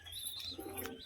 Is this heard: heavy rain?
no